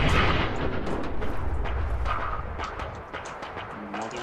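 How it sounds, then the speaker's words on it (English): Dense, booming explosions and crackling blasts in the video game Fallout 4 roll one after another, loud and continuous with no pauses. "A lot of things are blowing up here."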